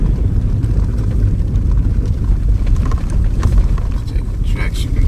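Ford Everest Sport SUV driving on a gravel off-road track, a steady loud low engine and tyre rumble with wind buffeting, and a few faint crunches near the end.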